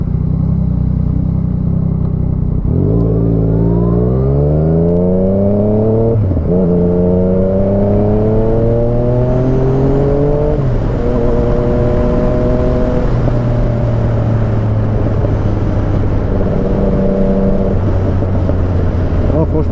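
A Yamaha MT-09 motorcycle engine revs up repeatedly through rising gear shifts, loud and close, its exhaust crackling and popping between pulls with a constant rushing drone.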